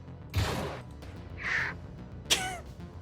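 A person imitates a bald eagle's cackling cry: three short raspy bursts, the last a sharp rising-and-falling squeal, close and alone.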